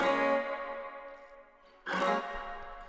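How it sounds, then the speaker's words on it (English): Bright, thin high-passed strums from the opening attacks of acoustic guitar chords, two separate hits about two seconds apart, each ringing out and fading, with no voices. "So this is just the high frequencies of that first strum of those guitars."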